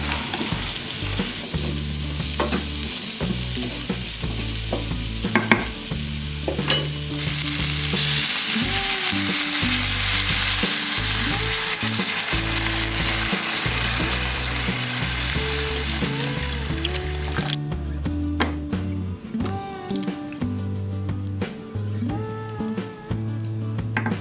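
Vegan food frying and toasting in a pan, a steady close sizzle with occasional stirring scrapes and clinks running throughout, growing brighter and denser midway before settling.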